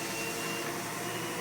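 A SEBO Automatic X4 upright vacuum cleaner runs steadily, a loud, constant broadband whir with a faint whine, close and unbroken with no talking.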